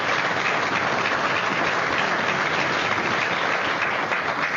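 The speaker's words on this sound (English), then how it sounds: "How about a big round of applause for our panel of..." Steady, dense applause from an audience at an evening community panel event on opioids in a university commons building, loud and sustained throughout with no voices.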